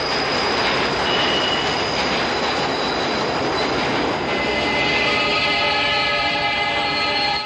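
A New York subway train in the film Jacob's Ladder roars loudly and steadily, wheels screeching with sustained high-pitched squeals over rumbling rail noise throughout.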